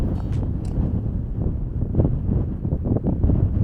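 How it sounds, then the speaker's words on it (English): Wind roars through a short tunnel on a greenway, a constant low buffeting rumble with gusty surges and microphone wind noise throughout. "the wind is howling through here"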